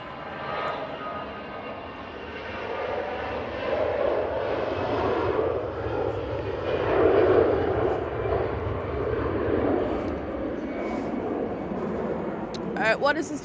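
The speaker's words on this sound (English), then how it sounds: "A380 heading back to Frankfurt." A Lufthansa Airbus A380 departs Manchester Airport for Frankfurt, its four-engine roar building and swelling in the middle before easing, a broad rumble heard from some distance.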